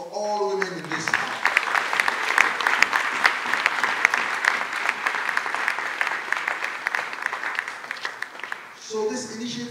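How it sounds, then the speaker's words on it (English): Audience applause for the women of the town at a Queen Moremi celebration hosted by the Ooni of Ife, sustained and dense for most of the stretch, framed by a speaking voice at the start and end. "Please, a beautiful round of applause for all women in this town."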